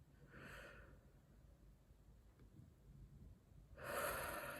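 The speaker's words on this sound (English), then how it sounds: "so let's take a deep breath in." A slow, deep breath in and out, soft and close, with a breathy rush at the start and another at the end over a quiet background hiss.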